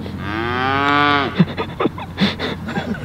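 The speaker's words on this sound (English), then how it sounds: "cows trying to put me off" Cows on a golf course give one long, loud, close moo, followed by scattered softer grunts and rustles.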